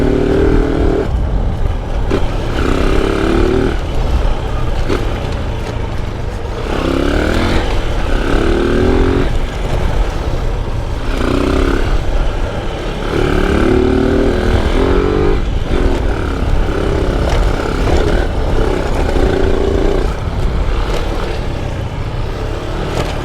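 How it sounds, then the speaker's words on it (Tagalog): A motorcycle engine drones and revs up and down repeatedly along a rural road, loud and close throughout, with rising whine patterns as it accelerates and shifts. "May motor nga dito oh."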